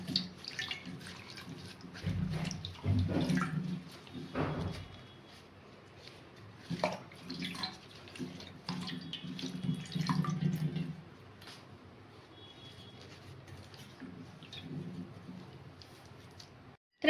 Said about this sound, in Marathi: आपण एक एक करून सगळे पानं स्वच्छ धुवून घेऊया.